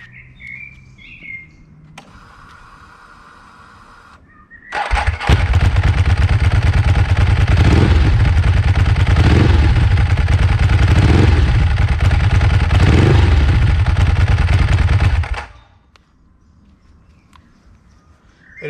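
A Ducati 999 motorcycle with an open clutch starts and revs loud and close, holding a steady roar for about ten seconds with several rhythmic throttle blips before cutting off, after a brief clatter and faint bird chirps.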